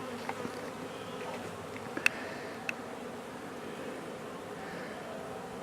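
Honeybees hum steadily in a soft, continuous buzz while robbing laid-out honeycomb pieces during a colony removal, with a couple of faint clicks in the background.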